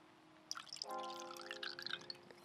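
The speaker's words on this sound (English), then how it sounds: "We're going to take a pouring of wine break." Wine poured into a glass, a soft clink followed by a gentle gurgling stream with rising tone, quiet and close, no talk.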